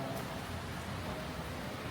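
Rain falling at night in Jakarta makes a faint, steady hiss that runs evenly throughout, with no voices.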